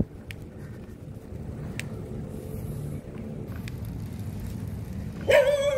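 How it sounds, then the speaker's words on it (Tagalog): A single sharp dog bark rings out close by near the end, after several seconds of quiet outdoor background with faint wind. "Gulat ako sa aso."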